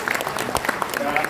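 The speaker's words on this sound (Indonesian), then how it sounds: "Dan tepuk tangan buat Mas Yakob" An audience at a grand launching event gives brief, dense applause, a quick clatter of clapping hands close by.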